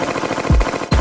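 Rapid bursts of gunfire from a music video, two heavy booming shots over a fast rattling beat, loud and close, without speech.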